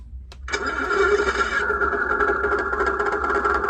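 Sound unit of a Tongde 1/16 scale RC British Centurion tank simulating its engine, starting up with a brief burst and then settling into a steady rumbling idle.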